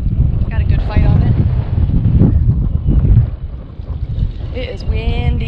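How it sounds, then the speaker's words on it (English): Gusty coastal wind buffets the microphone in a low, steady rumble while kayak fishing for red drum off Topsail Island, North Carolina, with someone talking over it and a brief high whine near the end. "It is windy."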